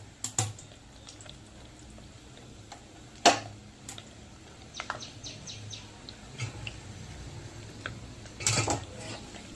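Metal clinks and taps as ghee is strained through a metal strainer from a pot, sparse and close, with quiet gaps and a busier clatter near the end.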